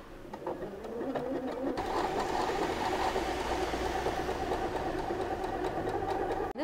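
Usha Dream Maker sewing machine stitching an embroidery pattern, running with a steady, continuous mechanical whir after a brief start, close and moderately loud throughout.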